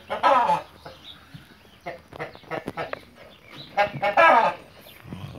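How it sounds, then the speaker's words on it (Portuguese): A hen clucks and squawks in bursts, close by, wanting to lay an egg in a box, with short pauses between calls and a few faint background noises. "A galinha tá querendo pôr ali, ó."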